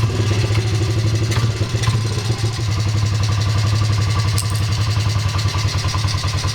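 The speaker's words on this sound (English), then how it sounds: "start up the engine," A Honda CRF50 dirt bike engine runs steadily at a close, loud idle, with a low throbbing rumble and a fast rhythmic clatter throughout.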